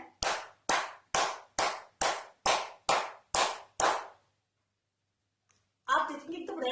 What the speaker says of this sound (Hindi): रोज सुबह 5 मिनट एकदम तेज ताली बजाएं